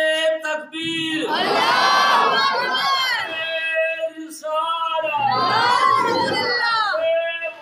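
A large crowd at a religious gathering shouts its answer to the Nara-e-Takbir slogan in two loud, sustained bursts of massed voices, the second following a short pause.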